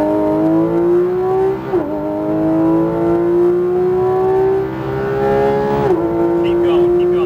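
A Porsche GT3 RS engine pulls hard on a race track, its tone climbing steadily through the gears with brief dips at each upshift, loud and close from inside the cabin, while a voice coaches over it.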